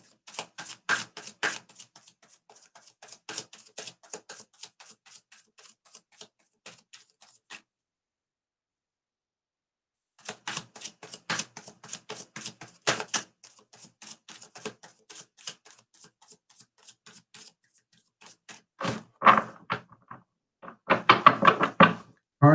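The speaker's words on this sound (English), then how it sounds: "Cards are shuffled." Tarot cards shuffled by hand in a run of rapid, crisp riffling taps, a clear gap of silence midway, then more shuffling ending in denser, louder bursts, with no talking.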